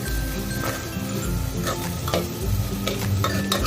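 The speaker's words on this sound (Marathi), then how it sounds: "हे थोडंसं मिक्स करून घेऊया आपण" A spoon stirs rice and peas in a hot pan for dal khichdi, giving a steady sizzle with repeated scraping and soft clinks of utensil against metal.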